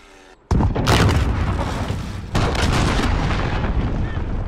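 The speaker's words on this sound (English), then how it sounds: "Allied cruise missile away." A cruise missile strike in Call of Duty Modern Warfare lands as a sudden loud boom, followed by a long rumbling roar and a second heavy blast, with no talk.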